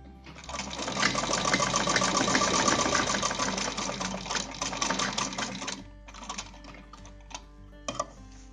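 Sewing machine stitching a folded fabric strip for a grocery bag handle, a fast steady whirring run for several seconds, then stopping with a few short bursts of stitching nearby.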